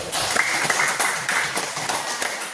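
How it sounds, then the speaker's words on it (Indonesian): Classroom applause for a student named Fatin during an Islamic ethics teaching practice lesson, a steady patter of many hands clapping at close range for a couple of seconds. "Beri tepuk tangan untuk Fatin"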